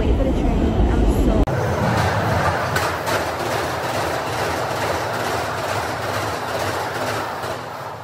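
A train rolls into a station with steady clickety-clack of wheels over rail joints, loud and near, under a constant rumble, with voices faintly present in the background.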